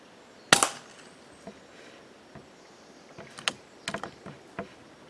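A single air rifle shot fired at a squirrel outdoors, a sharp close crack near the start, followed by faint scattered clicks and light knocks.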